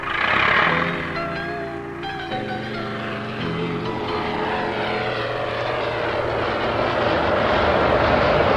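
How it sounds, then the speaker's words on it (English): A small, commercially operated propeller plane in Antarctica drones steadily and loudly close by, its engine note wavering as it runs, with no talk over it. "supported by a small, commercially operated plane brought in for the project"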